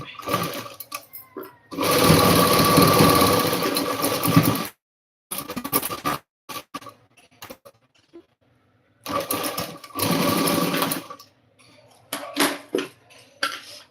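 A sewing machine stitching a design blouse runs in loud, close bursts of rapid mechanical whirring, separated by pauses filled with clicks and handling noises.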